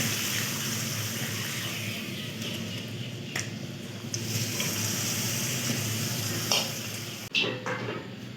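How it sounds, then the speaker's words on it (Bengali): Papads frying one by one in hot oil: a steady, dense sizzle holds throughout, with a few brief clatters and a sharp disturbance near the end as pieces are moved or lifted out. "পাঁপড়গুলো একে একে ভেজে তুলে নেব।"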